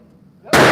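A single sharp, loud Glock 44 pistol shot cracks out at an outdoor shooting range after a brief quiet moment.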